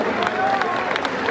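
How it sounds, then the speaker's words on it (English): Audience clapping at the Crufts dog show in 2015 after a dog training club's afternoon display: a short burst of steady crowd applause with a voice speaking over it. "a round of applause there for Tom Herring and his team from Cotton"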